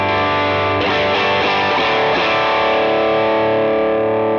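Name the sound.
electric guitar rhythm tone through Thrust drive pedal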